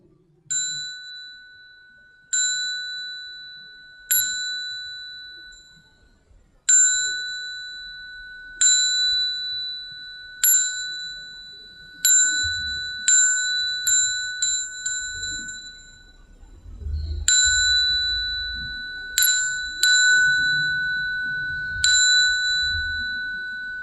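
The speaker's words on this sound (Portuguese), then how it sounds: "esse foi a apresentação dos sinos que são utilizados na cerimônia budista" Buddhist inverted bowl bells of several sizes (da qing, xiao qing, yin qing) struck one at a time in a ceremony demonstration, each a clear ringing strike with a long, pure decaying tone, about fifteen strikes at uneven intervals, near and alone.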